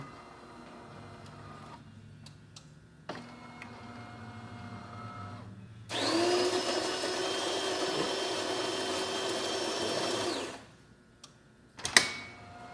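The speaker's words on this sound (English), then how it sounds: "We're going to brew a short coffee here." A serviced DeLonghi Magnifica espresso machine pulls a short coffee: mechanical clicks and a short whir, then several seconds of a loud steady pump drone that stops abruptly, followed by a final sharp clunk.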